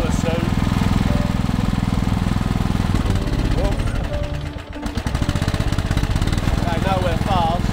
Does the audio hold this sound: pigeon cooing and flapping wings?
no